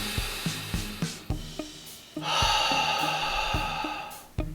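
Runner's breathing, a string of short, sharp nasal sniffs in a steady rhythm followed by a longer rushing exhale through the mouth and another sniff, close to the microphone.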